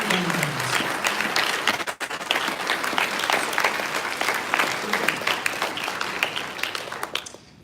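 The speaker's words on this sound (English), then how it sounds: "We want to give you all a big round of applause." A crowd at a Tim Kaine political speech applauds, a thick, sustained wash of many hands clapping with a brief vocal cheer near the start, holding steady before tapering at the close.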